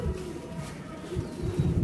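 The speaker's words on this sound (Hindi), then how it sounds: "ये रामपुरी कबूतर है जी" Rampuri pigeon cooing, a soft low murmur that repeats through a continuous stretch, close by with faint room noise behind it.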